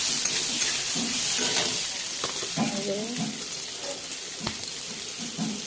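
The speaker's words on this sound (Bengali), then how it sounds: "আলুগুলো দিয়ে দেওয়ার পর আলুগুলো ভালো করে নাড়াচাড়া করে নেব" Boiled potatoes being stirred in hot oil in a wok, a steady sizzle and hiss with scraping stirring strokes, close and moderately loud, with someone talking over it.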